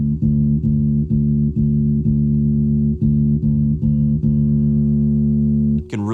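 Bass guitar through a Gallien-Krueger MB410 combo amp with the treble pushed to an extreme setting, playing a steady run of repeated plucked notes with bright upper harmonics, loud and close, ending in a brief squeal of noise.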